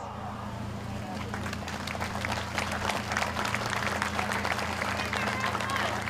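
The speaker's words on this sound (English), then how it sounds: "would all veterans, active duty military, police, fire, EMS, and healthcare workers stand for a round of applause" A speedway grandstand crowd applauds veterans, active duty military, police, fire, EMS and healthcare workers, with sustained clapping that swells and holds steady over a low engine-like hum.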